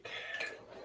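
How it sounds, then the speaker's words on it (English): Rice being dished onto a plate, with short clinks and scrapes of a utensil against the dish, close and fairly quiet over about a second. "Get some rice dished up."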